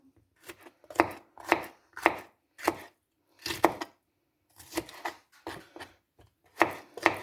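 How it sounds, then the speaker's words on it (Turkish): A knife chops peppers briskly on a cutting board, about a dozen sharp knocks in quick uneven bursts, close and clear with short pauses between. "Bu şekilde biberlerimizi de doğrayalım"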